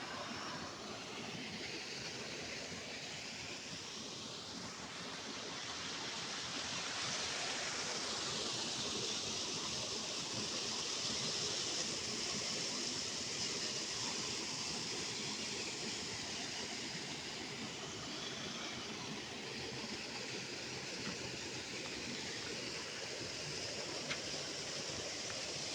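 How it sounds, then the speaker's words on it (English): Water flows continuously in a Ghanaian rainforest near a plank bridge, a steady broad rushing wash that swells slightly partway through, with no talk. "Water is flowing, it's very nice."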